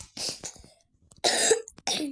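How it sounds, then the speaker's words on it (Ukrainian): Three harsh coughs in quick succession, close and loud, separated by brief pauses with no speech. "Я сьогодні вже, по-моєму, тисяча з половиною раз кашляв"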